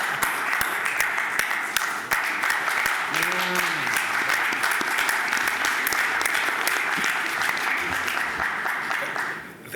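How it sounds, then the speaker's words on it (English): A forum audience gives a sustained standing ovation, with dense, continuous clapping from many hands that holds steady and then begins to fade at the very end, while a voice speaks briefly over it. "If not a standing ovation."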